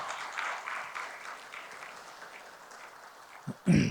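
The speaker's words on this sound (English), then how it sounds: "can we have a big round of applause for ICI India as well?" An audience gives a round of applause for ICI India at an event on the Indian stock market. The faint, thin clapping tapers off and is followed by a brief bump at the very end.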